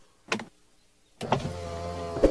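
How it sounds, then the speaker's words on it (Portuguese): Cartoon car's convertible roof lowering electrically, a short motor whir, then a longer steady mechanical hum ending in a final clunk. "Querem arriar a capota? Sim, por favor. Ah, é só eu apertar esse botão vermelho."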